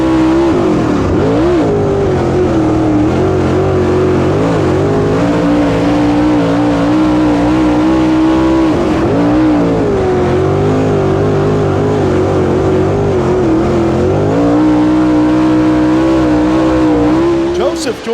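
Race cars on a dirt track at the National 100 in East Alabama, engines roaring loud and continuous with pitch rising and falling through the turns, under a race announcer's commentary.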